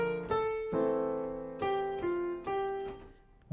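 Piano playing slowly with both hands: a bass note and treble melody struck together in a steady, unhurried series of soft notes, each left to ring before the next, with no talking.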